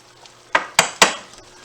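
Three sharp metallic clanks of a pan being set up on a stove ring out close by, each followed by a short ringing decay.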